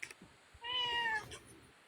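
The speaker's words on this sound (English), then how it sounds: "Just a cat meowed." A house cat gives a single drawn-out meow, clear and fairly close, with a few faint clicks before and after in an otherwise quiet room.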